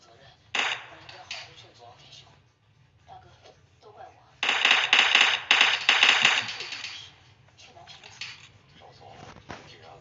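Gunfire in a first-person shooter game, scattered single shots followed by a rapid loud burst of automatic fire, with voices talking around it.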